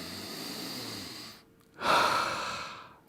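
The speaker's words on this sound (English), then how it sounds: "The action of breathing keeps us alive." A person breathing in and out near the microphone, a long steady airy exhale followed after a short pause by a stronger, louder breath that slowly fades, with no talking.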